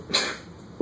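A single short sneeze bursts out once in a quiet lecture room, followed by near silence.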